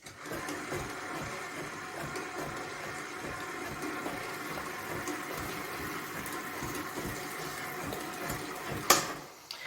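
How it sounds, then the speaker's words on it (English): A food processor with its blade fitted runs steadily, mixing wet yeast roll dough in a continuous mechanical whir with a churning rhythm. The sound is close and even throughout, with a brief clatter near the end and no talk. "Then I'll put my blade on and I'll mix to incorporate all the ingredients."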